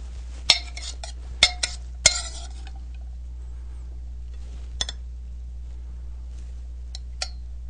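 A spoon clinks against a plate while sugar snap peas are served, giving a few sharp metallic taps in quick succession early on and a couple of fainter clinks later, heard alone in a quiet kitchen.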